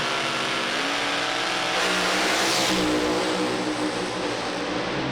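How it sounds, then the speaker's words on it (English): Pro Alcohol drag racing car at a Sydney strip, loud and close, its engine revving hard on the start line and surging as it launches, a dense continuous roar with no talk. "Revs right up on the start line."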